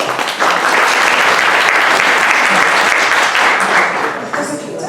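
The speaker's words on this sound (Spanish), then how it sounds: "Así que un aplauso a la doctora." Audience applause for a doctor at a medical talk fills the room steadily and loudly for about five seconds, then thins out toward the end.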